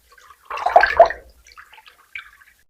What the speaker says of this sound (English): Then we wash our sandpaper leaf too.